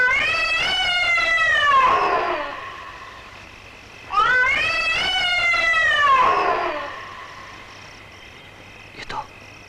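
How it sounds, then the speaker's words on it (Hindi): A cat gives two long, drawn-out wailing meows, each rising and then falling, with a pause between them, in an eerie horror-film scene. A short faint click comes near the end. "ये तो उसी बिल्ली की आवाज है।"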